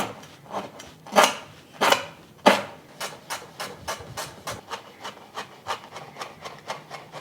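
A knife chops finely through the white parts of a vegetable on a cutting board for a Vietnamese meatball recipe, first a few heavy strokes, then a quick, even run of crisp taps close by with no talking.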